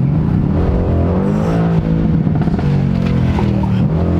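A Mercedes-AMG C63 S under kickdown accelerates hard from inside the cabin, its engine roaring loudly and steadily with a rising, rough harmonic tone throughout.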